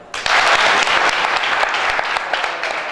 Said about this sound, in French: On va commencer à vous demander d'applaudir très fort pour les billes.